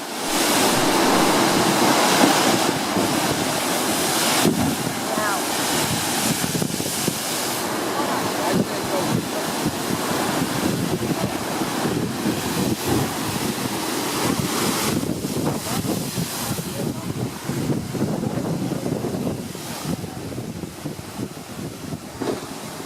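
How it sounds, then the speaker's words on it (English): Ocean waves funneled through a rock chute crash and surge continuously, a loud roaring wash of water and spray with wind buffeting the microphone. "the waves are funneled into this chute, causing a spectacular spray."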